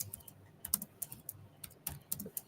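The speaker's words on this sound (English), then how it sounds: "and I'll type it in here." Quick bursts of typing on a computer keyboard, close and fairly quiet, with irregular clusters of sharp key clicks separated by short pauses.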